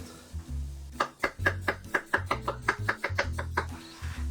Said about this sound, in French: Là, je n'en ai pas, je vais couper au couteau.